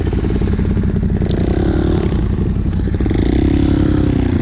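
A Yamaha Raptor 700 quad with an MT-07 engine swap, out in the first snow, runs with a loud, close, continuous throbbing engine note that rises and falls in revs.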